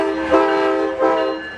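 A Norfolk Southern freight train sounds its horn in western North Carolina, two loud sustained blasts rising close by over the rumble of the rolling train.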